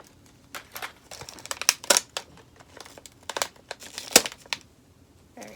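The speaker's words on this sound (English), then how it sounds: "cut the label off." Scissors snip and crinkle through the thin plastic label on a plastic bottle, a close run of sharp cuts and rustling crackles with brief pauses, no voices.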